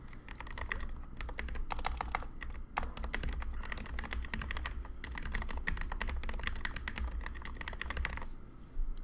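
Someone types a note on a computer keyboard, a close, quick, steady patter of key clicks that runs almost without pause, breaks once briefly and ends with a few scattered taps.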